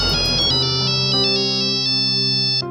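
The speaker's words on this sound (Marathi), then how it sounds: "गायत्रीताईंचा फोन आहे" A phone ringtone plays loud and close, a bright repeating electronic melody in short pulsed notes that continues for a few seconds without any voices.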